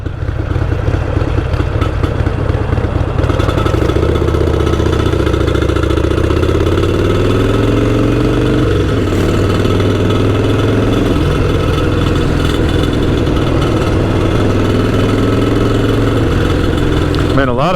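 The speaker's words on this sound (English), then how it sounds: "I hope they don't mind my loud motorcycle." A loud motorcycle engine rumbles steadily on a holiday street ride, its low throbbing drone rising and falling in pitch as the throttle shifts, close and continuous throughout.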